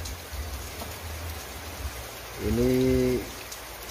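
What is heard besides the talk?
rain falling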